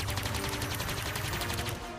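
Rapid turret gunfire in a sci-fi tabletop game plays as a dense, continuous burst of quick shots, steady and fairly loud for about two seconds.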